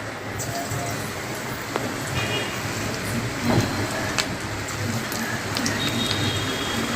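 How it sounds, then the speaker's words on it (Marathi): Capsicum fritters drop one by one into hot oil, a dense steady crackle and sizzle with a few faint clinks, heard close and constant throughout. "ह्या गरम तेलामध्ये आपल्याला सोडायचे आहे ते बघा असं करून लगेच गरम तेलामध्ये सोडायचे आहे"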